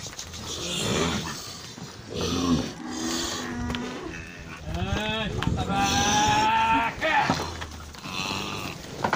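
Nelore cattle lowing loudly and repeatedly during ranch herding work, deep drawn-out moos overlapping one another up close, with a voice calling among them.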